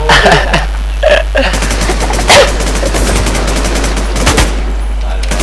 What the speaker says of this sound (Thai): อุ้ยปืนลั่นปืนลั่นทันที